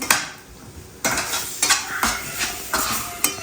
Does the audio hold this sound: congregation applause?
no